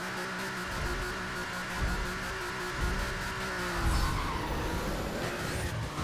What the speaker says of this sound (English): this is an open chamber exhaust because it is a race car, so it is very loud